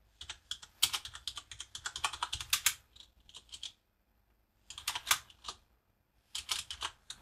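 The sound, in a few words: typing a command on a computer keyboard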